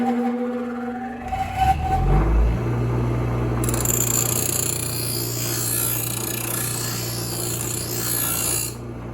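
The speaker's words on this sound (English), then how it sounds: "Next, we're going to sharpen the blades" Garden tool blades are sharpened, likely with a powered grinder, which whirs steadily and close for most of the span, with a scraping rasp as it engages and a drop-off at the end.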